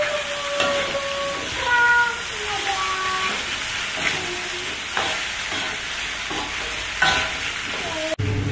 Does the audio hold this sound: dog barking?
no